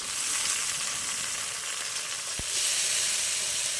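Green chillies hit hot oil in a pan and set off a loud, steady frying sizzle. A short thump sounds midway, and the hiss grows a little brighter near the end. No one speaks.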